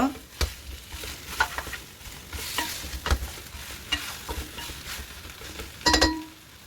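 Sesame seeds crackling and sizzling in a hot frying pan, with scattered pops and occasional stirring scrapes and clinks, close by.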